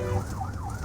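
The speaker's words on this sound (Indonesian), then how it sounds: "ketika mendengar suara sirine ambulans harusnya sudah minggir" An ambulance siren wails with a rising and falling pitch sweep, steady and moderately loud, over a low constant hum from traffic or an engine on a road.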